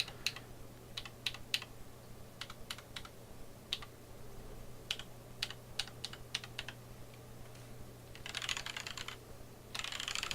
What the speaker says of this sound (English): Otherwise keys sound very nice.